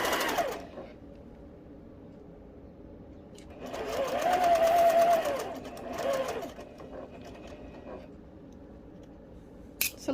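A sewing machine stitching quilt pieces during chain piecing runs in two bursts, a longer steady whir and then a shorter one, with quiet gaps and faint handling clicks around them.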